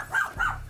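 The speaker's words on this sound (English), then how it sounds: "My dog hears Mochi and is trying to talk to them." A dog gives two drawn-out, whining howl-like vocal calls in quick succession, close and fairly loud, like it is trying to talk back.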